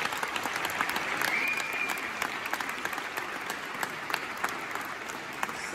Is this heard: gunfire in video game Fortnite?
no